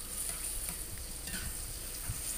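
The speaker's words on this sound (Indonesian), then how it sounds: "aku udah goreng-goreng bawang merah, bawang putih. Kita tunggu sampai harum." Chopped shallots and garlic frying in oil in a home kitchen pan give a steady, close sizzle throughout, with soft stirring scrapes and no talking.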